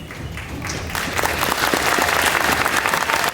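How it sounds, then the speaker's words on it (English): An audience applauds veterans at an army infantry graduation ceremony, a steady wash of many hands clapping that swells after the first second and holds loud and dense to the end, with no talk over it. "please join us in a round of applause for these veterans"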